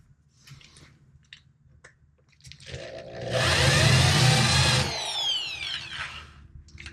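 Power drill grinding off rusted bolt heads on an old Healey car body, starting with a few light taps and then building into a loud, sustained whine for about two seconds before it eases off.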